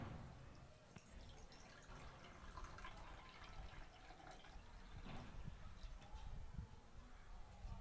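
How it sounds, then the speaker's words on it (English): Water trickles and splashes steadily into a bowl, a soft continuous pouring sound with faint dripping, fairly close and quiet. "Now pour some water"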